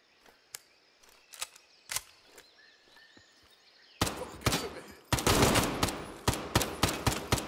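Gunfire in the video game Incursion: Red River: a run of single sharp shots, first thinner and spaced out, then louder, denser bursts in quick succession toward the end.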